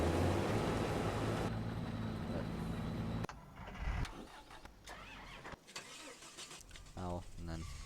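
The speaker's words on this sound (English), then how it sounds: "this tractor is a pretty good tractor" A Ford tractor's engine cranks and catches, a loud rumbling start that drops to a rougher idle, while a person talks nearby over the running engine.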